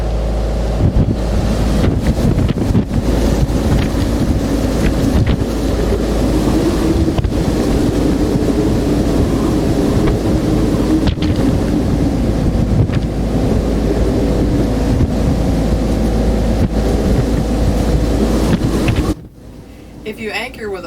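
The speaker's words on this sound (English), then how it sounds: "The wind actually accelerates as it funnels down the valleys and is much stronger than you can imagine" Strong storm gusts buffet a boat at anchor off Hawaii, a loud continuous roar of wind battering the microphone with a low rumble beneath, easing abruptly near the end.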